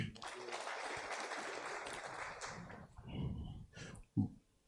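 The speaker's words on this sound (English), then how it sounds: "let's give a round of applause to Ivan Fumalio" Audience applause for a guest at a Papua New Guinea university gathering with the Prime Minister, a steady broad wash of many hands clapping that fades out near the end, followed by a few louder isolated knocks.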